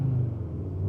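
An Audi RS3 sedan's 2.5 TFSI engine held against its soft limiter at about 4000 rpm gives a brief, steady, deep rumble at close range, with no talking.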